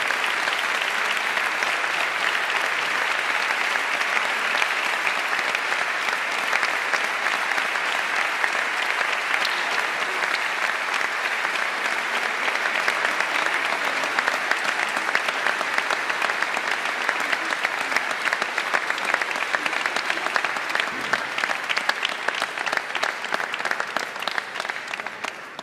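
Sustained, loud applause from a large audience at a national canoeing gala, steady dense clapping for the athletes lasting the whole stretch with faint crowd murmur beneath.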